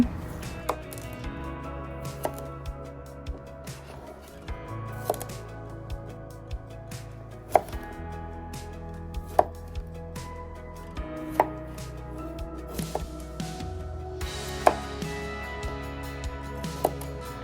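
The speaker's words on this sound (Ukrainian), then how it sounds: "беремо огірочки і нарізаємо їх так, як я показую це на відео" A knife slices fresh cucumbers on a cutting board in a steady run of close, sharp taps, with a faint hum of the kitchen behind it.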